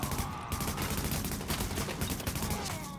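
Sustained gunfire in the co-op shooter game Tom Clancy's The Division at the WarrenGate Power Plant, loud overlapping bursts of automatic shots that continue without a break.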